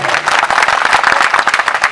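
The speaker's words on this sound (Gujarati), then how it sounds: "એમને તાળીઓથી વધાવો" An audience at a live farmers' stage event claps loudly and steadily, a dense patter of many hands close by for the whole stretch, with no voices on top.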